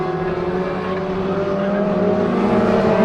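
Toyota MR2 race cars compete at Rockingham, their engines droning loudly and steadily as they hold speed close together. No one speaks.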